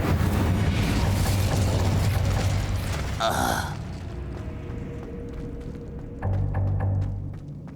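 A magical Incendio fire spell cast in Hogwarts Legacy, heard as a loud, dense whooshing burst with crackling and mechanical swirling. It fades into a quieter hum, then a second low rumbling surge rises near the end.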